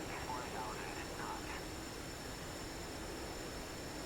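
MiG-29 Fulcrum jet engine in the flight game DCS World, a constant broadband roar and hiss with no breaks throughout.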